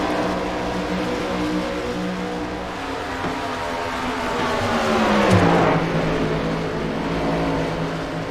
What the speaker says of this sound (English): I hear some engines out there.